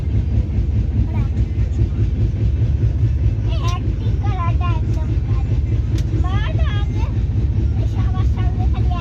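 A passenger train runs through dense fog near Bakhtiyarpur, Bihar, with a loud, continuous rumble and rattle of wheels on rails throughout while people talk over it.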